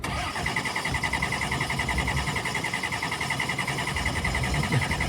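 A 60-year-old hot rod truck engine cranking and running, loud and close, with a steady rough pulsing chug that continues throughout without a break.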